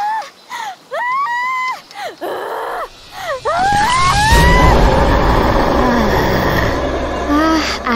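Screaming from a house in the Sakura School Simulator game, a wavering voice rising and falling in repeated cries, then fading under a louder rumbling, noisy stretch.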